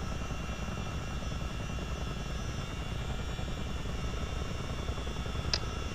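A simulated CH-47D Chinook tandem-rotor military helicopter in Microsoft Flight Simulator holds a steady, loud, dense turbine and rotor drone throughout, even and unbroken, with no voices.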